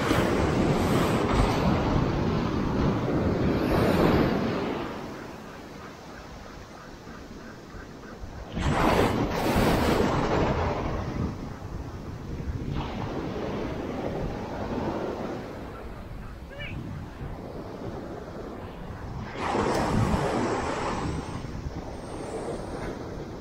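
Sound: wind blowing on a beach while fishing

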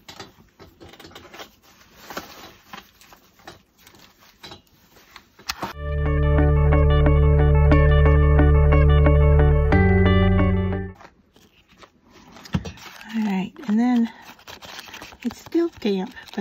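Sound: heat tool drying craft project

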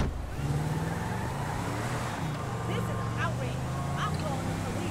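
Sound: car engine driving in video game GTA 5

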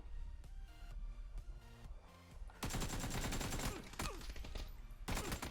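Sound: gunfire in video game PUBG

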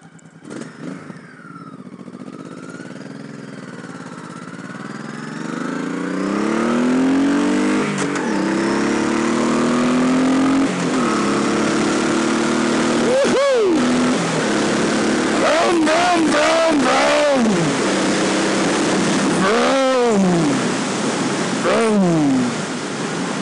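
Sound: 2007 Honda Sabre 1100 V-twin motorcycle engine

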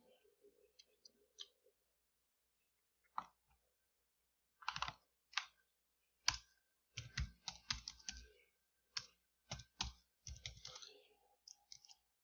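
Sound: typing on a computer keyboard

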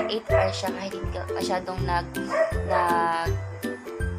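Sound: dog barking

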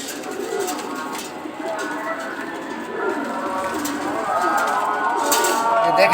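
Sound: racing homer pigeons cooing

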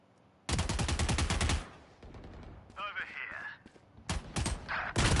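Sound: gunfire in the video game Valorant

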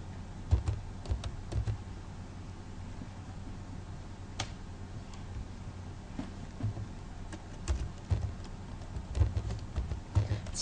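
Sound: typing on a computer keyboard

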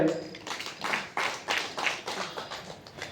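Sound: audience applause

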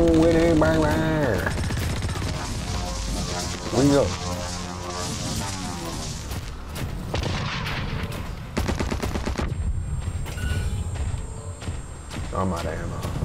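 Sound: gunfire in the video game Blacklight: Retribution

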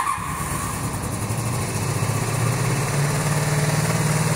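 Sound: cafe racer motorcycle engine running at raised idle

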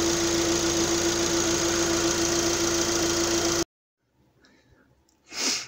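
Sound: Chery Tiggo 8 car engine started and idling

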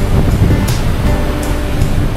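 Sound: ocean waves against a large ship

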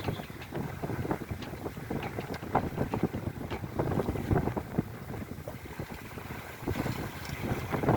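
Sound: sailboat under sail in wind

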